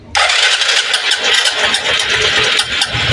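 A Suzuki Hayate 125 motorcycle engine with a starting fault catches and runs, a loud close mid-pitched engine note that settles into a steady idle with slight throttle variation.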